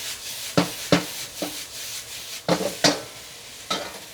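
Eggplant stir-fried in a wok for Sichuan fish-fragrant eggplant: a soft background sizzle broken by sharp scraping strokes of a spatula against the wok, roughly six strokes at an irregular pace.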